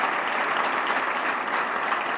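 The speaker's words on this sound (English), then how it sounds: "How about a round of applause for all those athletes?" An audience claps for triathlon athletes at a hall of fame speech: dense, even applause, loud and unbroken, with no voices over it.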